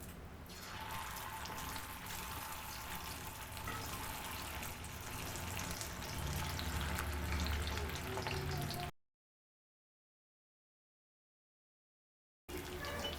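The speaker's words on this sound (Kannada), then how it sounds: "ಇದರಲ್ಲಿ ಒಂದೊಂದೇ ಹಾಕ್ಬಿಟ್ಟು ಫ್ರೈ ಮಾಡೋಣ" Chicken 65 pieces fry in hot oil with a steady, close sizzle and crackle that runs for about nine seconds, then cuts to silence before the frying resumes briefly at the end.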